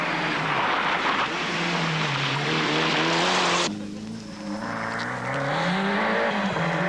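A Mitsubishi Lancer Evolution rally car at the 1996 R.T.S Rally in Belgium races through a stage, its engine note rising and shifting through gears as it passes close, then fading slightly.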